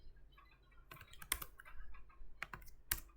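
Computer keyboard keys tapped in a few sharp clicks while copying and pasting during HTML and CSS form work, with scattered single presses spread across a quiet room.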